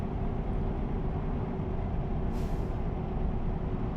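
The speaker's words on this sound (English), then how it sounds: "Just going to ride the brakes down this hill." A heavy truck riding its brakes down a hill in Euro Truck Simulator 2, a constant loud low engine and road rumble with a brief hissing burst of air brake released partway through.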